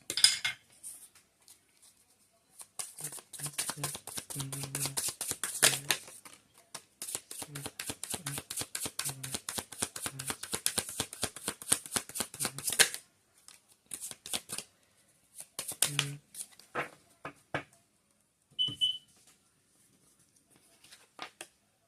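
Tarot cards are riffled and shuffled in long, crisp flurries of rapid flicking close by, broken by pauses, then slapped and laid down in short bursts of papery snaps.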